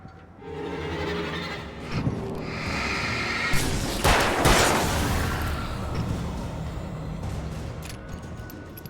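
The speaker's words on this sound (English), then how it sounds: "she just heard that gunfire upstairs" Gunfire in the video game Alan Wake, heard as muffled, distant booming bursts over a low, steady rumble, with one sharper cluster of shots standing out midway.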